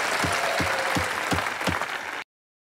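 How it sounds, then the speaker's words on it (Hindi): A comedy show studio audience gives loud, sustained applause, steady clapping filling the room until it cuts off abruptly. "इनके लिए जोरदार तालियां।"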